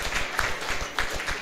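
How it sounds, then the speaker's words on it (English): Audience at an Ethereum L2 scaling tech event giving a round of applause, a short burst of fairly close, loud clapping with uneven rhythm. "let's give that a round of applause"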